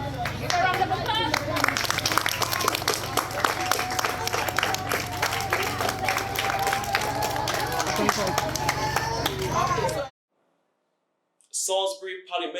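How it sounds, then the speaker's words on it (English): A crowd claps and cheers in a dense, sustained burst with busy chatter mixed in, lasting about ten seconds before it cuts abruptly to silence, followed by a voice speaking. "Give a round of applause."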